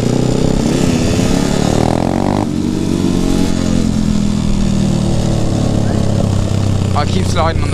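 A road legal pit bike rides along a road, its small engine loud and close with a steady buzzing drone and a gear change partway through. Someone talks over the engine noise throughout.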